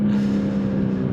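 Toyota Supra in sport mode on a cold day, engine droning with a strong steady tone, heard briefly and loudly from inside the car.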